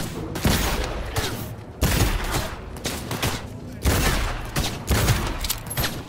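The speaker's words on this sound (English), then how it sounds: "these guys came around and started shooting at me" Enemies open fire in Cyberpunk 2077, loud bursts of rapid gunfire coming in several heavy volleys with short gaps between them, close and harsh, with no talking over it.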